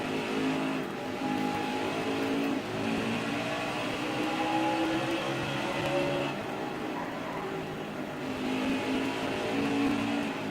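Race car engines roar in NASCAR Heat 5 during a night race at Bristol, a dense, continuous drone of several cars revving and passing with rising and falling pitch, loud and unbroken.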